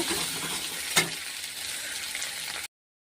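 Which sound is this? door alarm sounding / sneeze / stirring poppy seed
stirring poppy seed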